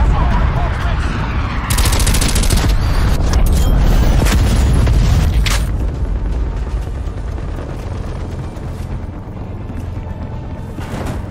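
Artillery strike in the game Call of Duty Black Ops Cold War multiplayer: loud, dense bursts of booming explosions and rapid gunfire fill the clip, peaking early and easing slightly later, with faint game voice callouts mixed in.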